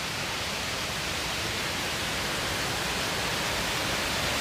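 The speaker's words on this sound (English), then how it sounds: "Sweet ass waterfall." A waterfall on the Pacific Crest Trail roars as a steady, dense rush of broadband noise, loud and unbroken from start to finish with no voices.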